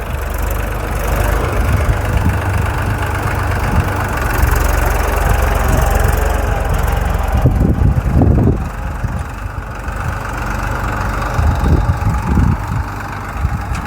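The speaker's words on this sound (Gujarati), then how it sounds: "તો ટ્રેક્ટર જો આ રીતનું હાલે છે" A tractor engine chugging steadily nearby during onion sowing in a field, a low throbbing idle with a few heavier revving bursts partway through.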